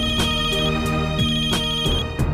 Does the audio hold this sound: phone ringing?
yes